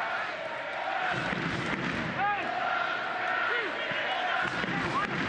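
Stadium crowd at Al Lang Stadium during a Tampa Bay Rowdies soccer match against Louisville City FC, a steady roar of fans with cheers and whistles rising throughout, heard under a commentator's voice.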